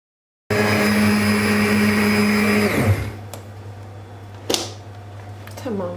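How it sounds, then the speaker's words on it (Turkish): An electric blender pureeing lentil soup runs loud and steady with a high whine, then winds down and stops, leaving a few faint clinks and handling noises. "Şimdi blenderla güzelce pürüzsüz hale getireyim."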